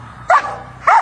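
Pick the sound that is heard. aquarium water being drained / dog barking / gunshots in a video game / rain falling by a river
dog barking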